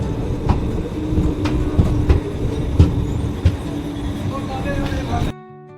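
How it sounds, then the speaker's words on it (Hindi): The 20402 Shuttle Superfast train rolls into Nihalgarh railway station with a loud, steady rumble and repeated rhythmic clacks of wheels over rail joints, then cuts off abruptly. "अभी बिल्कुल निर्धारित समय पे ट्रेन हमारी यहाँ पहुँच रही है"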